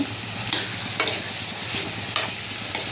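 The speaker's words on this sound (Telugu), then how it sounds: "ఇలా మంచిగా కలుపుకుంటే ఇలా మంచిగా కలుపుకోవాలి" A spoon stirs eggplant and fish curry in a hot pan with steady sizzling. A few distinct scraping strokes rise above the frying hiss, and no one speaks.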